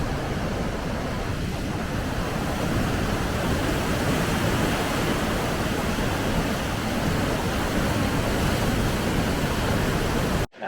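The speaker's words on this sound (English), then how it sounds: "I'll pull into this place, Hawke Falls, expecting there'll be some little waterfall or something." Hawke Falls, a large waterfall in Hawke's Bay, pours with a steady, dense roar of rushing water that holds at an even loudness throughout and cuts off abruptly at the very end.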